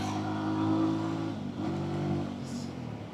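A 2025 Lifan K19 200cc chain-drive cruiser motorcycle without ABS rides through traffic in Pakistan, its engine giving a steady, close droning hum that swells slightly as it pulls along.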